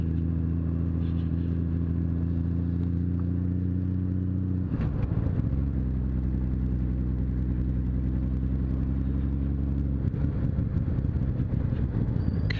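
A car rolls along a gravel road on Tagaranna peninsula, Saaremaa, its steady low engine drone and tire rumble continuous throughout, with a couple of brief clattering bumps from the loose surface.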